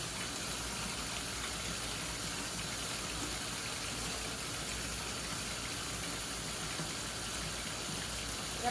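A tap runs steadily throughout while hands are washed for a second time, giving a constant, moderately faint gush of water with no voices.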